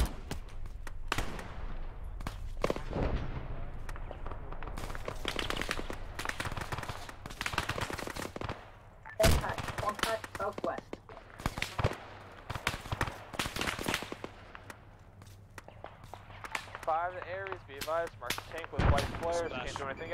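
A high-explosive tank cannon shot in a military video game sounds among many sharp, close blasts and crackling gunfire bursts scattered irregularly. A voice speaks briefly near the end.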